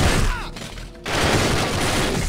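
Bursts of gunfire in the tactical shooter SWAT 4 during a hostage rescue, loud and close, with a brief lull midway before the shooting resumes.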